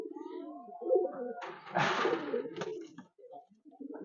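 An old Ablak pigeon kept at home coos close by in low, throaty, repeated phrases, with a brief rustling burst in the middle and no talk.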